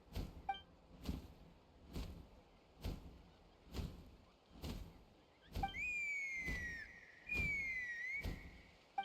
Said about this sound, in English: That sounded like a whistle